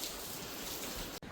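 Heavy rain pours down steadily at night in rural Gujarat, a dense, even hiss that fills the short stretch almost without pause before a brief break at the very end.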